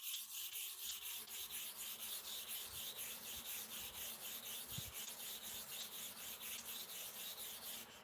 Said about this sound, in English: Then you sharpen the other side 20 times